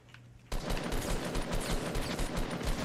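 Rapid automatic gunfire from an inaccurate gun in Fortnite: Battle Royale, a loud sustained burst that starts abruptly after a brief quiet moment and rattles on steadily to the end.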